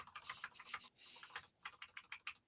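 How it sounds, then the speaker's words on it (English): Rapid typing on a mechanical computer keyboard at a workplace desk gives dense, uneven bursts of crisp key clicks with a brief pause in the middle, close and fairly quiet, with no voices. "I have one of the annoying keyboards at work. Yes. The mechanical ones"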